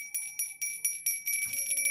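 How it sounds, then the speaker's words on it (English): A small bell rings indoors with several quick, bright strikes in a row, its clear metallic tone sustaining between hits, close and fairly soft with no talking. "I'm going to ring the bell."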